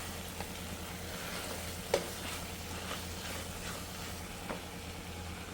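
Ginger garlic paste fries in hot oil with masala, making a faint, steady sizzle with a few soft clicks of stirring scattered through it.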